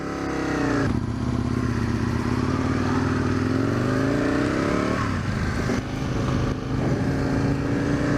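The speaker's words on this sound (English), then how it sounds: "So, it's Aprilia RSV 1000 Tuono. It's the naked one." Engine of a first-generation Aprilia RSV 1000 Tuono naked motorcycle, a loud steady drone with pitch shifts as it revs, holding throughout with a brief dip near the middle.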